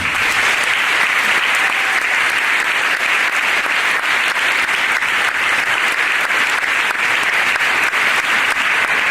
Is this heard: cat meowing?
no